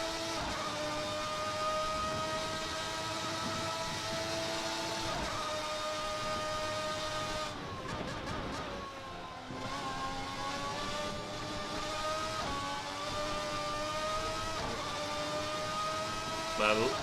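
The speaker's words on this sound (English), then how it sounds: "a wee 7-lap race in the RSS Formula 1990 V12 for Assetto Corsa" An RSS Formula 1990 V12 race car in Assetto Corsa screams steadily at high revs, with pitch climbing through each gear and dropping briefly at the shifts, a lift and rev dip midway, sounding loud and continuous throughout.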